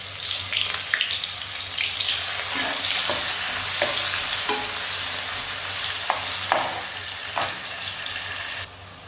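Finely chopped onion fries in oil for dal chana, giving a steady, close sizzle with occasional clacks of stirring throughout and no talking.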